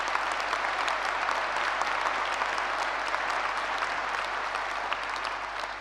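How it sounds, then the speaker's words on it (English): Graduates at a university graduation ceremony applaud in a large hall, a dense, sustained wash of many hands clapping at an even level from start to finish with no talking over it. "A very big round of applause to yourselves for being committed, disciplined, and striving for excellence."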